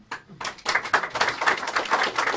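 Audience applause at a documentary screening and debate, a dense burst of clapping that starts abruptly and holds steady at a fairly close, loud level.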